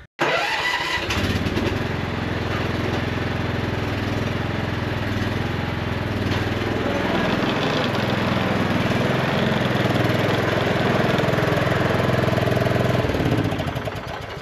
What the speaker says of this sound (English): I'm just going to stop and get the tractor on the front now.